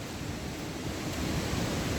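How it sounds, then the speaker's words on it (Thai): A stream near a waterfall resort in Salavan rushes loudly and continuously, filling the air with a dense, close roar of flowing water without pause. "จะมีน้ำตามลำธารเสียงน้ำลำธารไหล"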